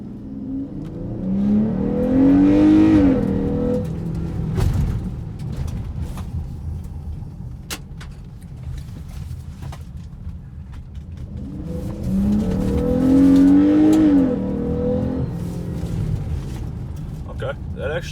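An all-wheel-drive car in sport mode accelerates hard twice while cornering, each time with a rising engine surge swelling and then fading, heard from inside under steady road noise.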